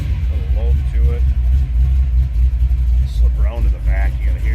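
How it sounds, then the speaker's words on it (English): A 1972 Chevrolet Chevelle Malibu with a 350 V8 idles with a little load, a deep, steady, close rumble that runs continuously underneath someone talking over it. "As I said, very healthy sounding car. Nice idle, a little load to it."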